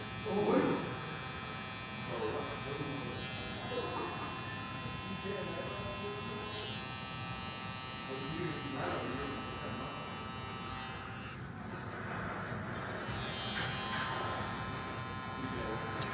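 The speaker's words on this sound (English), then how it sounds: "now I'm finishing off the haircut with the clipper all the way closed" Electric hair clippers with the guard fully closed buzz steadily through a mullet fade, a continuous close whirr with faint speech behind it.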